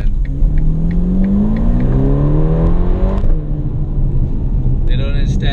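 A Ferrari Portofino engine revs hard under acceleration, the pitch climbing steadily in a loud, close, continuous rising drone that holds strong before settling, with a voice talking over it.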